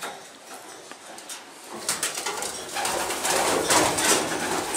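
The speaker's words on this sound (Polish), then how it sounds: "Znajdujemy się w gołębniku rozpłodowym, gdzie przebywają na co dzień gołębie" Breeding pigeons coo inside a pigeon loft, soft and continuous, mixed with rustling, shuffling and faint clatter that grow busier and louder toward the end; no one speaks.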